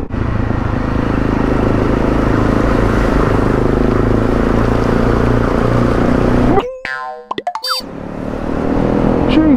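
A 250cc motorcycle engine drones loud and steady while riding through flood water, then cuts to a sharp burst of splashing and sputtering before the engine roar returns.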